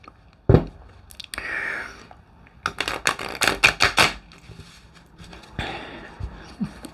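A brand-new Heaven and Earth Tarot deck of stiff cards is shuffled up close, giving crisp clattering bursts of rapid card slaps separated by short pauses.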